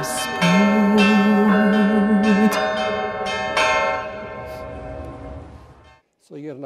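Bells ring in a recorded pop arrangement of a Ukrainian carol, bright repeated chimes over sustained music and a voice, loud and full before fading out near the end.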